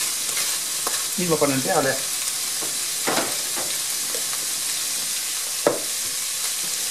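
Ground meat fries in a hot pan, a steady sizzle with a few sharp stirring scrapes, while a person speaks briefly over it.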